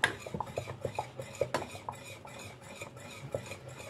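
A spoon stirs pudding in a pot on a switched-off stove, clinking and scraping against the sides in an irregular rhythm of close, fairly quiet strokes with no talking.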